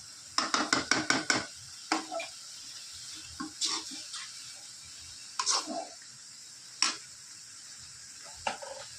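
Chicken masala with chili powder being sautéed in a pan, a quick burst of clattering stirs at first, then sparse, separate scrapes and knocks of the spoon against the pan over a quiet sizzle, no voices.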